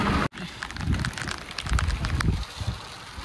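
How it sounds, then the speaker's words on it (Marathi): Heavy rain drums on a car from inside during a road trip around Pune, Solapur and Tuljapur, a dense, close crackling patter that swells and fades after a brief dropout at the start. "तर पाऊस दाखवतो तुम्हाला. पाऊस बघा."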